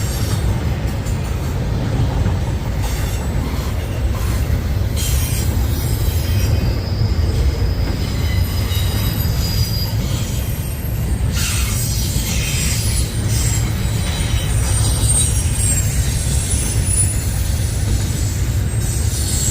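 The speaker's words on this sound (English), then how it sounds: "Maybe we'll get this BNSF after this train." A Norfolk Southern train rolls steadily past on the tracks at Lindale, Georgia, a loud continuous rumble with wheel squeal and metallic screeches rising and falling throughout.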